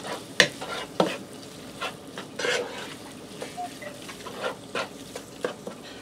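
Mexican beef casserole mixture is stirred in a pot off the heat, giving a series of distinct wet scraping and squelching strokes at an irregular pace, moderately close, with quiet pauses between and no talk.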